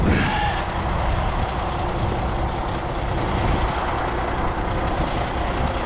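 A truck backs up in the snow with a loud, steady engine roar and broadband rumble, with no breaks, sustained throughout.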